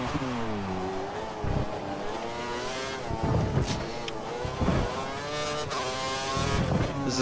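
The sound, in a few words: Sauber F1 car driving in F1 2013 video game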